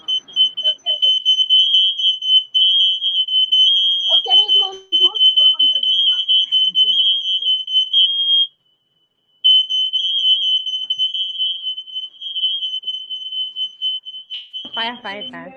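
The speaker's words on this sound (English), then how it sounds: "Fire alarm everywhere." A fire or smoke alarm shrieks with a steady high-pitched continuous tone, loud and persistent across the whole stretch with a brief gap midway, while voices talk intermittently beneath it.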